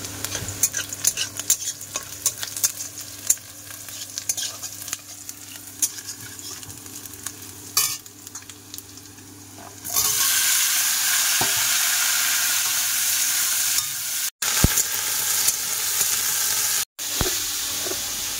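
Chopped onion and crushed garlic are stirred in a pan with scraping and clinking at first, then a loud, steady frying sizzle takes over as they hit the hot oil.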